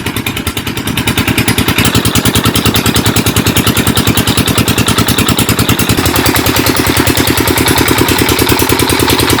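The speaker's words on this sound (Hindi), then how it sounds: "ये फीटर इंजन है जी" A Peter diesel engine pumps a tubewell in rural Faisalabad, Pakistan, with a loud, close, rapid, even chugging that holds steady throughout and has no talk over it.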